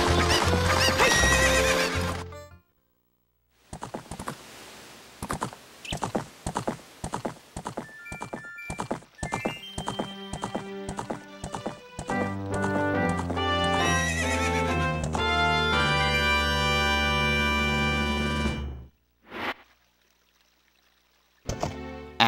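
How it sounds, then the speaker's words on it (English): A horse whinnies and gallops in the video game Ocarina of Time, a loud neigh followed by rhythmic clip-clop hoofbeats layered with game music and jingles, ending in a short closing chime. "And we got a horse."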